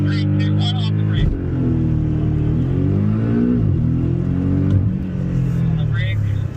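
Porsche at the Porsche Experience Center Los Angeles launching hard off the brake, the engine revving and climbing loudly through rising pitch sweeps, with a person talking over it.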